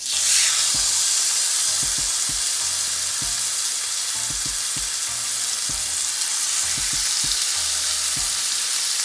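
A New York strip steak sears in a frying pan with a little oil, giving a loud, steady sizzle and hiss that runs unbroken, close up, with soft low thumps now and then underneath.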